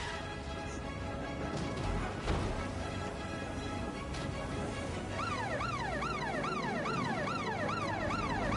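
A police siren in the video game Watch Dogs wails in rapid up-and-down sweeps over loud engine and traffic noise, starting partway through and continuing to the end.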